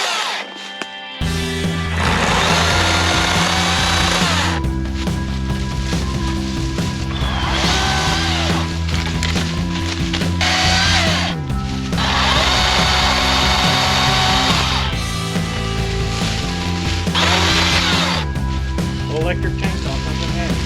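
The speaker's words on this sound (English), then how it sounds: "Electric chainsaw comes in handy." An electric chainsaw cuts through trees to free a Ford Galaxie XL left parked for 38 years, its loud motor whining in several long bursts with brief drops between cuts.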